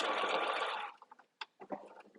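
A sewing machine stitches fabric in a steady, close whirring run for about a second, then stops, followed by a few short, separate bursts of mechanical clicking and stitching.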